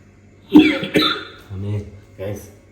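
Two sharp coughs close by, followed by a couple of low, throaty voiced sounds.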